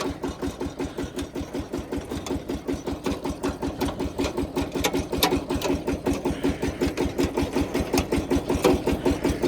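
A VST tractor engine with a trolley hitched runs steadily, its rapid even firing pulses chugging loud and close for the whole stretch, with no voices.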